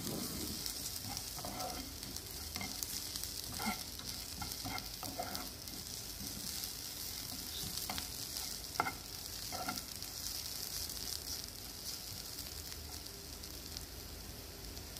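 Fennel seeds and cumin sautéing in a pan for a fish masala, a steady soft sizzle with occasional scrapes and taps of a spoon stirring, continuous and close.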